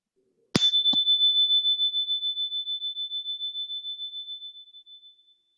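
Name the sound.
meditation chime ringing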